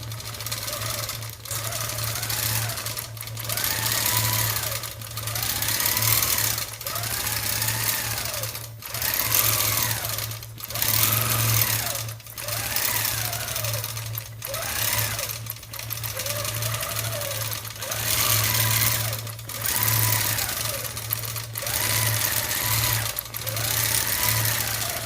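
A sewing machine stitching in repeated runs, its motor whirring in steady bursts of a few seconds separated by brief pauses, loud and close throughout.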